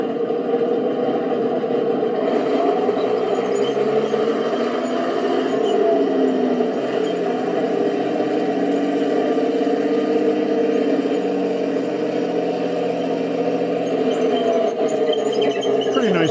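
A 1/16-scale 3D-printed RC Nashorn tank's simulated engine gives a steady, droning rumble that runs continuously at a constant level, with a synthetic, looping quality and no breaks.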